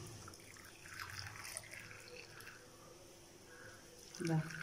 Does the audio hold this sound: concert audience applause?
no